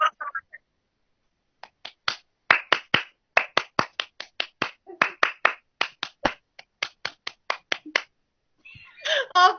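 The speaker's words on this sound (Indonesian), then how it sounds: "Silakan, Daru tepuk semangat." Classroom teaching practice with the tepuk semangat clapping chant: crisp, sharp handclaps in a quick patterned rhythm of grouped beats with short pauses, close and loud, with brief voices at the start and end.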